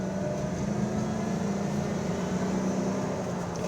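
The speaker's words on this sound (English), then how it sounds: "You can hear the supercharger a little bit" A 2003 Ford Mustang Cobra being driven, with a steady, constant drone of engine and road noise heard from inside the car, where a faint supercharger whine may sit within the continuous hum.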